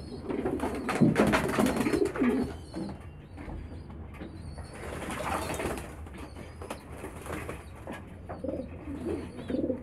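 Pigeons crowd around freshly set-out water to bathe, with soft cooing and bursts of wing flapping close by, rising and falling in busy clusters through the scene.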